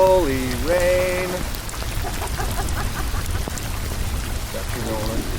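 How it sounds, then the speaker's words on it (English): Hard rain pours onto a lake and canoe in Quetico backcountry, a dense, steady hiss of drops on the water, with a voice calling out in a drawn, sing-song tone at the start and near the end. "Oh, it's gonna be a hard rain."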